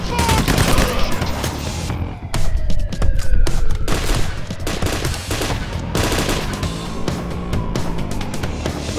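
Gunfire in the video game Payday The Heist, with dense rapid bursts of automatic weapons and scattered shots. The fire is continuous and loud, with voices calling out over the shooting.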